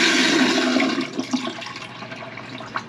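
Loud marine toilet flushing in the head of a liveaboard boat, a close rushing burst of water that fades into gurgles and drips, with no talk.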